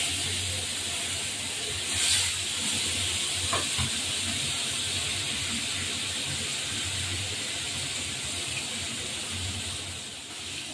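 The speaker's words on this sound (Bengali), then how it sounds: "নুন হলুদ দিয়ে মেখে এবার পুঁটি মাছকে ভাজবো" Puti fish rubbed with salt and turmeric sizzles in a pan, giving a steady, fairly quiet frying hiss that runs the whole time with no talking.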